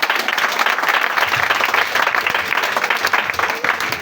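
A church congregation claps and cheers in acclaim of Jesus, a dense, continuous wash of applause from a crowd filling the room, loud and steady throughout.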